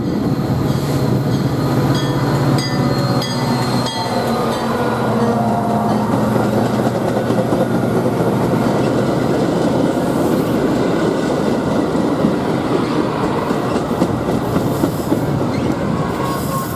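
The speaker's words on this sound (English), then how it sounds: "Here's an outbound metro arriving into Northbrook, heading northbound to" An outbound Metra commuter train pulls into Northbrook station heading north toward Fox Lake: loud, close rumble with rhythmic clickety-clack of wheels over rail joints and some wheel squeal, continuing steadily for the whole stretch.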